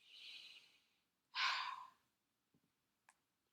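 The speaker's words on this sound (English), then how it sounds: "Take a deep breath in." A single deep inhalation followed by a longer, louder sighing exhale, close and breathy, then a couple of faint small clicks and soft sounds near the end; no talking.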